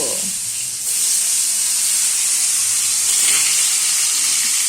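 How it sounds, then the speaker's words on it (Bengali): A loud, steady sizzling hiss of potatoes frying in hot oil continues without pause. "আলু ভাজা বসে গেল"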